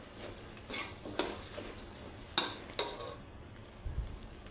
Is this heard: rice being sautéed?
yes